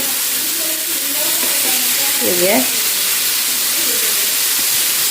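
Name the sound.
tikka pieces frying on a hot tawa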